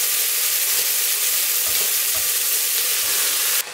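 Bacon, onions and vegetables for a bean stew fry in a pot, producing a loud, even sizzle up close with a few soft stirring knocks underneath.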